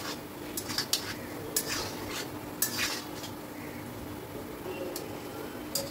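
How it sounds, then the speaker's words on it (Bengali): Semolina balls fry in oil and are gently stirred, with soft scraping and occasional light clinks of a utensil against the pan over a low, continuous sizzle. "দেখুন আমি আবারও পরের ব্যাচের সুজির বলগুলোকে ভেজে নিচ্ছি।"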